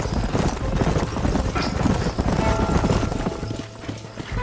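Steady clip-clop of several horses' hooves moving together in the video game Red Dead Redemption, under a dense wash of background noise, continuing without a break.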